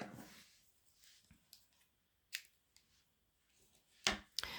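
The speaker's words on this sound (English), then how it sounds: "So let's cut red yarn off." Scissors cut red yarn while crocheting a Mickey bauble, a few quiet, sharp snips close by with short pauses between them, the last two nearly back to back.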